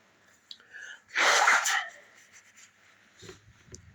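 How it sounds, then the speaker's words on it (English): One loud, forceful sneeze bursts out in the middle, with only quiet rustling before and after. "I'm about to sneeze"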